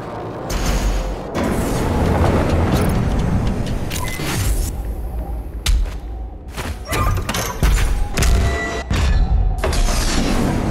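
Loud booming blasts and heavy thuds go off repeatedly in Doom Eternal, with abrupt cuts and crashing debris in between, like explosions in an action-game battle.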